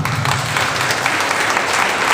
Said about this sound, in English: Clap panna.